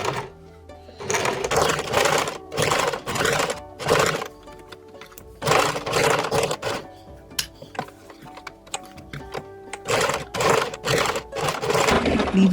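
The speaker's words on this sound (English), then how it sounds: "Pin and sew along the curved outer edge and around the square corner, stitching just outside the interfacing" A sewing machine stitching collar pieces for an áo dài in short bursts of rapid needle clatter, loud and close, separated by brief quiet pauses and occasional handling clicks.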